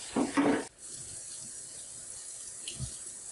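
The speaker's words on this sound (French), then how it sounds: "Utilisez de l'eau chaude et au besoin un savon doux afin de nettoyer la poubelle." Warm water runs from a tap to rinse out a waste bin, a brief splashy rush at the start that cuts off, followed by quiet hiss and a small knock.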